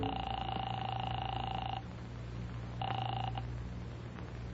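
Telephone call tones in an old-time radio drama: a long steady buzzing signal on the line, a pause, then a shorter second buzz over a low background hum.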